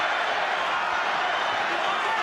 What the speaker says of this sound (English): And listen to the crowd trying to fire him up.